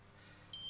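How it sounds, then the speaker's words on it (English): Phone notification ping, a single short high tone arriving abruptly near the end after near silence, quiet and close. "That's my phone pinging that."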